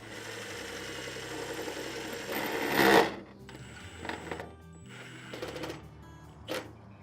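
Power driver whirring as screws go into snap-on vinyl gutter end caps during a gutter installation, a loud burst near the middle followed by several shorter, fainter bursts.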